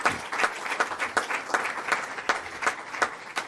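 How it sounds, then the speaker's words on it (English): An audience claps for Minister Don Muhammad, a student minister, at a gathering. The applause is steady and fairly close, with sharp individual claps standing out, and no one speaks over it. "let's give him a round of applause."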